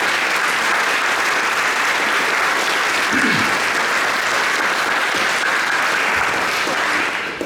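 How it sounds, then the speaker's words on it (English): At the Wigan Young Musician Competition 2024, a large audience gives sustained, even applause, a thick wash of clapping holding steady throughout before easing at the very end. "I think we should give him a round of applause"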